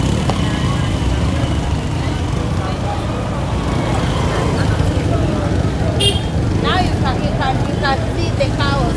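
Busy downtown Kigali street with cars, a steady wash of traffic noise and engines, a few brief higher tones near the end, under people talking nearby.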